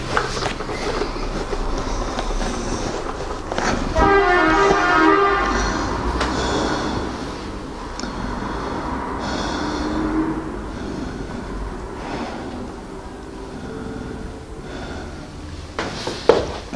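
Breathing in and out through a homemade N95-style mask, with close, loud, rough airflow swells and snort-like rasps; no one talks.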